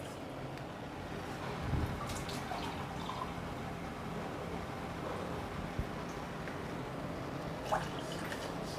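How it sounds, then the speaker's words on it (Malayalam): Water trickles and splashes steadily into a pot as two glasses are poured in, a soft continuous stream with a few small drips, close by and fairly quiet. "ഇതിലേക്ക് ഒരു പാത്രം വെച്ചിട്ട് ഞാൻ അതിൽ 2 ഗ്ലാസ് വെള്ളം ഒഴിച്ചു കൊടുക്കുന്നുണ്ട്."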